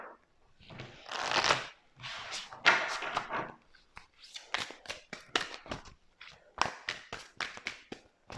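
A deck of tarot cards is shuffled by hand in close, crisp riffling bursts with short pauses and taps between them, clear and fairly quiet in a still room.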